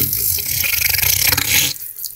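Warm tap water runs steadily into a sink while a wig is being rinsed, a close, hissing splash that cuts off sharply near the end, leaving a quieter trickle.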